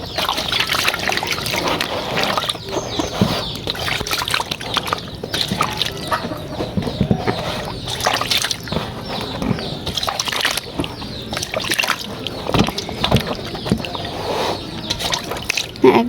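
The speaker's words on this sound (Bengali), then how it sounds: "তালগুলো ধুয়ে নিব এগুলো ধুয়ে নিতে হবে তিনটা তালই হচ্ছে আমি ধুয়ে নিবো" Ripe palm fruits are washed in water, giving close splashing and trickling with scattered handling knocks, and a chicken clucks in the background.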